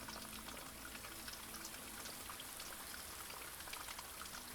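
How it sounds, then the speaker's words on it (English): A steady wet splashing and patter, like standing in a puddle of water in the Blue Prince video game, continuous and even throughout at moderate level. "Am I just standing in a puddle of water right now? Is that why I'm making noise right there?"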